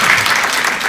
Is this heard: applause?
yes